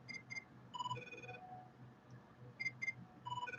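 A phone rings with incoming calls, playing a faint, repeated electronic chirping tone in short melodic bursts with brief pauses between them.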